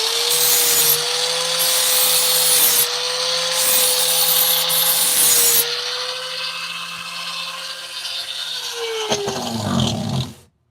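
A chainsaw roars loudly and steadily while carving a wooden bear, its whining engine pitch holding through the cut, shifting slightly, then winding down and stopping near the end.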